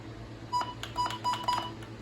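Button beeps on a Max Digital weather radio clock: four short, clean electronic tones spaced about a quarter to half second apart, close and moderately loud over a low background hum.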